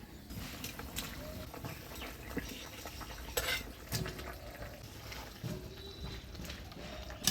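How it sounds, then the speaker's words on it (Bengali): Fried Phuli fish being added to a simmering potato and eggplant curry in a pot during traditional Bengali village cooking: soft clinks and scrapes of a utensil against the pot over a faint bubbling sizzle, quiet and close. "এবার ভেজে রাখা ফুলি মাছগুলো দিয়ে দিব।"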